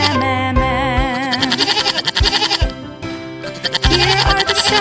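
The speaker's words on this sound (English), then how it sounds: "The goat goes meh, meh, meh, meh." A goat bleats in loud, wavering cries over bright, busy children's music with steady percussion, the bleats repeating in a rhythmic pattern.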